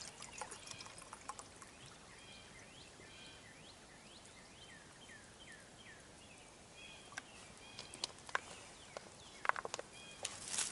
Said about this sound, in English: We're going to put in 16 ounces of water.